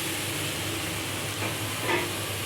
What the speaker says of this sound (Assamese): কেৰাহীটো গৰম হৈছে, এতিয়া ভাজি ল'ম নাৰিকলখিনি